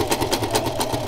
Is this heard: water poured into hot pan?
no